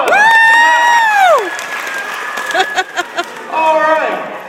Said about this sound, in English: Give Jamie a big round of applause.